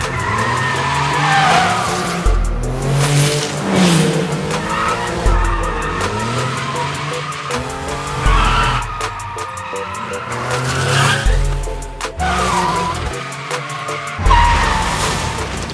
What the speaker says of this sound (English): I want to drift around the corners.